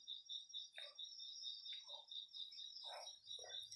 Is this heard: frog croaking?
yes